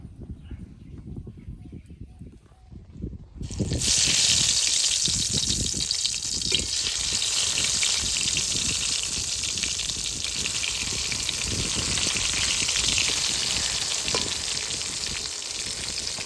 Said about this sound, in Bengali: তেলে বেগুন ভেজে নেব